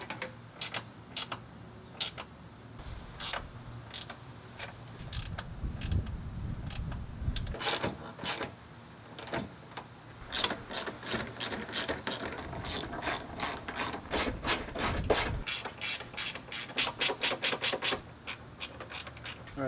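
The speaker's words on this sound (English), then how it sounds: "Now we can really tighten all this." Bolts on the radiator support of a 2005 Ford Focus being tightened with a ratchet, rapid clicking bursts repeating throughout at close range and without talk.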